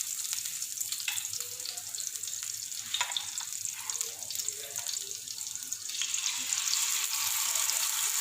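Chicken pieces frying in about half a cup of hot ghee on a tawa over a low flame, giving a steady close crackling sizzle with small pops throughout.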